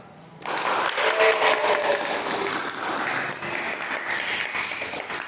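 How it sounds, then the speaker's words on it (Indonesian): Applause from a classroom audience at the close of a teaching-practice lesson: a sudden burst of many hands clapping, steady and dense for about five seconds, gradually thinning slightly toward the end. "Nanti bisa berikan aplaus"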